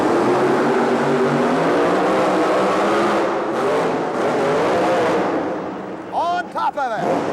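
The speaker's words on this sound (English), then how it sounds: "He's running the big blown motor of the Gravedigger" The big blown motor of the Gravedigger monster truck roars loud and sustained at a 1988 arena event, revving under a commentator's continuous talk and tapering off near the end.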